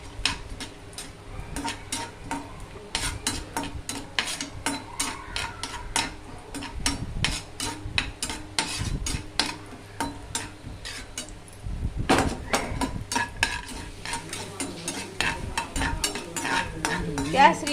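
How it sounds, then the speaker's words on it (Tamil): A spoon stirring and roasting semolina with cashews in ghee in a pan, with repeated scraping strokes against the metal and a soft sizzle underneath, close and fairly quiet. "இதிலே ரவையை போட்டு வறுத்துக்கலாம்"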